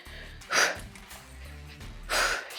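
Heavy, forceful breaths during an intense abdominal workout, two loud gasping exhalations roughly a second and a half apart over a low background hum.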